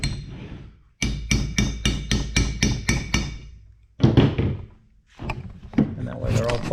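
Soft aluminum tabs on a Kawasaki rear brake drum being folded over with a hammer: a quick run of about eight sharp, evenly spaced metallic blows, a pause, then a few more irregular strikes close to the mic.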